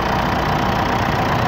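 A 2013 Mitsubishi Triton pickup's 2.5-litre diesel engine idles with a steady, loud, even rumble and a faint knocking clatter, close up in the open engine bay with no talk.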